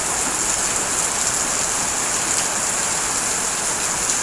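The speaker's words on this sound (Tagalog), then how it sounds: "ang lakas ng ulan, umapaw ang alulod." Heavy midday rain pours down on a street and overflows a gutter, making a dense, steady roar that stays constant and fairly loud throughout, with no voices.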